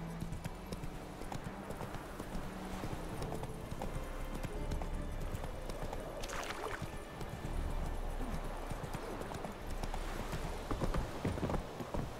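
Horse hooves clip-clop steadily at a gallop in The Witcher 3, a continuous rhythmic trot over a constant game background, with brief faint voice murmurs.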